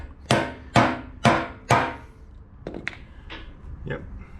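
Hammer tapping an anchor bolt down on a two-post car hoist post in a home garage, four sharp close metallic strikes followed by a few lighter taps.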